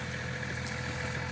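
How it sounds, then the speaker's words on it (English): A tractor engine drones steadily at a low idle-like rumble, a continuous moderate hum with no clear rise or fall over the short stretch. "There's still a tractor coming through"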